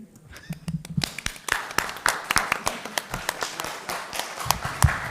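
A school board business meeting crowd claps after graduates are congratulated; scattered claps first, then a fuller round of moderately loud applause with distinct individual hand slaps, and a voice briefly audible at the start.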